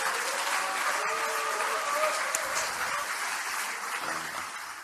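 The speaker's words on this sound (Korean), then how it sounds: "박수 한번 부탁드립니다" Steady, dense applause fills a Democratic Party meeting of regional committee chairs and lawmakers, a crowd clapping evenly for about five seconds with a faint voice beneath it.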